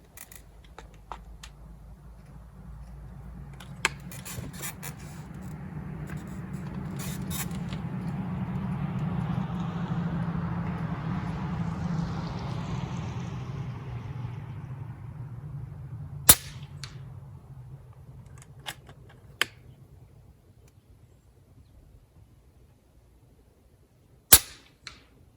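Three sharp, distinct shots from an FX Wildcat Mk3 .25 caliber air rifle, spaced several seconds apart, over a steady wash of outdoor background noise that swells in the middle, likely a passing vehicle.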